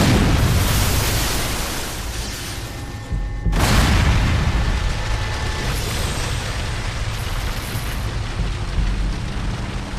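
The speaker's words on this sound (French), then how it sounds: "l'explosion déclenche une tornade de débris" A homemade bomb detonates with a sudden loud boom, a sharp broadband blast followed by a sustained roar and rumble of scattering debris that stays loud for several seconds.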